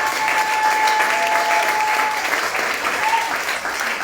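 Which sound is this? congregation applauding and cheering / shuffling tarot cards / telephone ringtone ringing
congregation applauding and cheering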